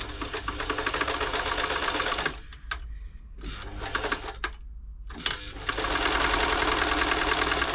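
A New Home 641 sewing machine running a straight stitch, a fast steady mechanical clatter close by that stops briefly in the middle with a few clicks and handling sounds, then resumes at full speed.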